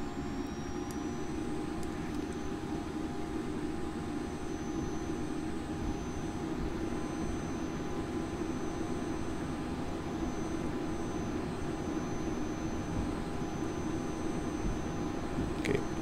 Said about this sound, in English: we'll just go ahead and do a rolling takeoff